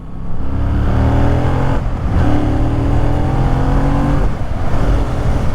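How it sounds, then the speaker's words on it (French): A loud motorcycle engine revs sharply with quick throttle blips before downshifting, the pitch jumping up and dropping between shifts, close and up front. "c'est le fait de donner un petit coup de gaz avant de rétrograder"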